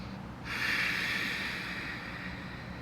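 A single long, breathy exhale through the nose during a yoga forward fold, close and soft, rising sharply and then tapering off slowly against a quiet room.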